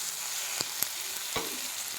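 Green chilies and tomatoes sautéing in oil for a green tomato chutney, a steady close sizzle throughout with a few faint clicks of a spoon against the pan.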